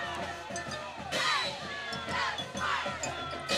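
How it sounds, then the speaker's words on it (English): A loud, vocal crowd roars and shouts continuously at a high school football championship game between Steelton-Highspire and Delone, with cheers surging in waves and individual yells poking through. "pretty vocal crowd here tonight"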